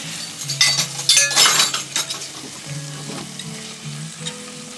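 Minced garlic sizzling in a pot while being stirred, crackling frying bursts with scraping and metallic clinks of the utensil against the pot, close and fairly loud, with a faint low hum underneath.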